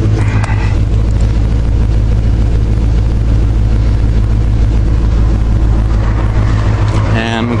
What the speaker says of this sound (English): Got a noisy belt. Yeah, I heard that. I hear the belt.